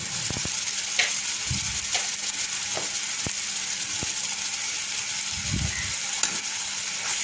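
Garlic paste, salt, turmeric and chili powder fry in oil in a pan for a snake gourd and jackfruit seed dried fish curry, with a steady close sizzle and occasional stirring clinks.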